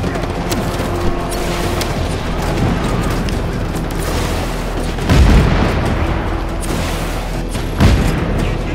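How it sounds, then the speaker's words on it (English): Grenade explosions in the Just Cause 3 video game sound as loud, deep booms over a constant roar of rumbling game noise, with two heavier blasts standing out partway through. "Oh, my grenades."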